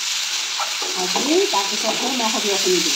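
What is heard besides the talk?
ginger and garlic frying in a pan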